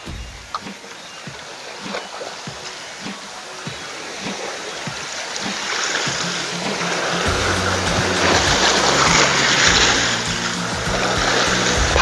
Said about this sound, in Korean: 파도는 약간 치지만